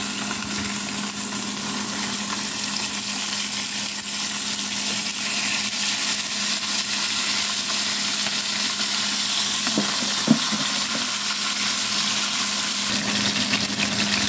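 Lapu-lapu (grouper) fries in a little oil in a pan with stirring, giving a constant, loud, even sizzle with a couple of faint utensil clinks partway through.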